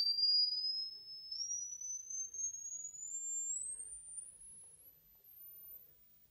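An iPhone water eject app plays a continuous pure high-pitched tone that climbs steadily in pitch as a sweep, becoming fainter as it rises toward the very top of hearing.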